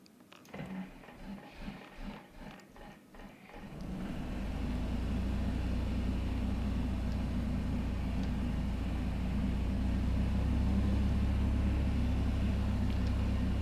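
Piper Cherokee light aircraft engine starting: several rapid cranking pulses for about four seconds, then the engine catches into a loud, steady close rumble that continues alone.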